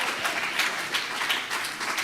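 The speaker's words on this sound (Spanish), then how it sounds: "denle un aplauso al Señor" A church congregation applauding, a dense, steady burst of clapping from many hands filling the space at close range.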